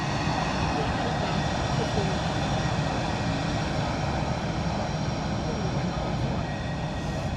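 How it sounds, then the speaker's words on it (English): A Ryanair Boeing 737 taxiing at London Luton Airport: a steady, loud jet engine whine and roar holding constant throughout, fairly close, with no distinct events. "So we've got another Ryanair 737 being taxiing out here as well."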